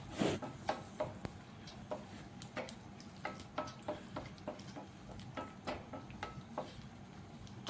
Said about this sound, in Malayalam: അപ്പം എല്ലാം കൂടെ ഒന്ന് നമുക്ക് വറുത്ത് കോരിയെടുക്കാം.